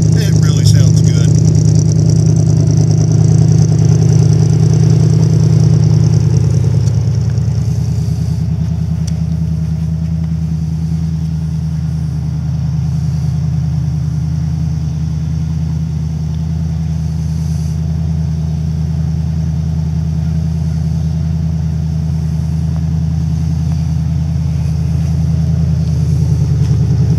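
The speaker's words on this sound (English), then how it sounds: "I really do like the sound of this truck" An old green truck engine runs steadily close by, a deep, even low rumble that idles throughout while someone talks over it.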